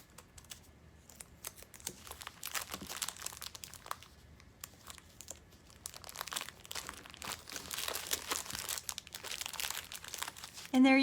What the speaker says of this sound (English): And I'm taking a little bit of Scotch tape. Just gonna tape it down.